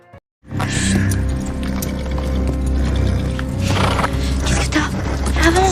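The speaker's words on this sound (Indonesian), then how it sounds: "Sementara itu, saat Selma kesulitan mengendalikan kudanya" A horse in a film scene, its rider struggling to control it, heard as hoof clatter and snorting amid a dense, loud mix of music and effects with voices through the scene.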